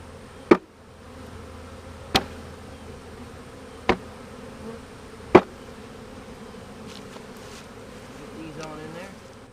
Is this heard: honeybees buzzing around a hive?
yes